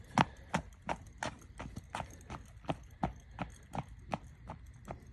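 A 13-year-old Belgian mare, 16 hands, walks under a rider, her hooves striking in a steady clip-clop of about a dozen evenly spaced, moderately close footfalls.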